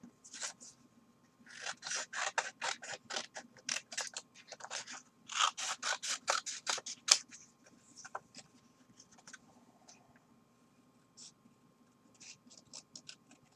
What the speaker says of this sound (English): cut it out with my fussy cutting scissors